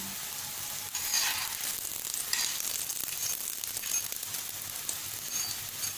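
Lachha paratha cooking on a hot tawa over a low flame, giving a steady broad sizzle with a few brighter crackling bursts, close and continuous with no talking.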